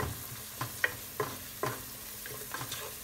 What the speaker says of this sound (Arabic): وشوية حبهان مطحون، نحركهم